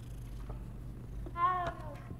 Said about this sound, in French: Deux chats dans le même coin.